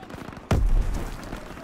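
A single sharp, booming gunshot in Call of Duty: WWII erupts suddenly and rings out, with faint clicks and background game noise around it.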